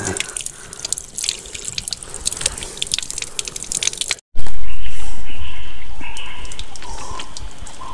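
Water running and dripping from a tap at a hillside temple site on a forest trek, a steady splashing flow that breaks briefly before a louder, closer stream resumes.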